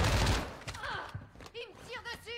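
Gunfire in a multiplayer shooter game, a quick burst of shots at the start, then fainter scattered game sounds with a person talking over them.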